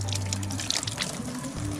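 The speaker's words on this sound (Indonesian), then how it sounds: "Tuh airnya lancar tuh." Water runs steadily from an outdoor tap at a campsite washing station, a continuous close splashing gush with no voices.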